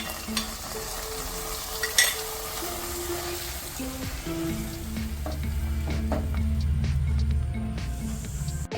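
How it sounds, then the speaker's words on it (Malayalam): Cashews, raisins and coconut pieces frying in ghee, a continuous crackling sizzle with occasional stirring scrapes and pops, growing slightly louder toward the end, with no voices. "പരിപ്പ്, മുന്തിരി, തേങ്ങാക്കൊത്ത് നെയ്യിൽ വറുത്തതിന് ശേഷം ഇതിലേക്ക് ഒഴിക്കുക."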